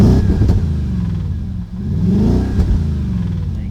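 An engine is revved up and down twice in quick succession, a loud, close throaty sweep rising and falling with a brief dip between the blips.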